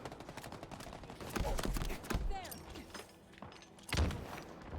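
Grenade blasts and gunfire in Halo Infinite, a rapid flurry of loud thumping bursts and crackling shots, with a heavier boom toward the end amid game effects.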